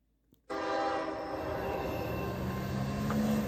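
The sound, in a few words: Canadian Pacific GE ES44AC locomotives passing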